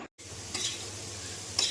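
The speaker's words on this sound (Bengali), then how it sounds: "রান্না বসিয়ে দিয়েছি আর আজকে রাতে একটু আলু ভাজি" Potatoes frying in a pan on a home kitchen stove, giving a steady close sizzle that runs alone after a brief drop-out at the start, with a couple of sharper stir-like bursts.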